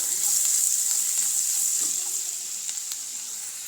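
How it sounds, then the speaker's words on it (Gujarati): Chopped onion sautéing in a small amount of oil on lowered heat, a steady close sizzle with faint crackles and occasional light stirring, no voices. "આ કાપેલી ડુંગળી નાખી દઈશું. અને તેને પણ આપણે સરસ રીતે સાંતળી લઈશું."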